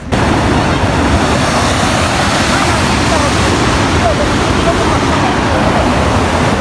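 Loud, steady rushing water from a stream in a snowy valley near Lake Saiful Malook, a dense unbroken roar close by that fills the whole clip.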